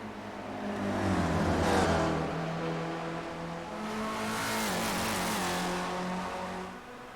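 A race car engine in a sim racing game of iSpec Racer Ford cars at Glen Classic roars as it accelerates and shifts, with the pitch rising and falling through the gears, loud and alone with no commentary over it.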